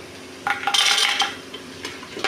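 A metal spoon scrapes and clinks against a cooking pot while cashews are stirred with ginger garlic, a short burst of close clattering that fades after a second, with one more faint knock at the end.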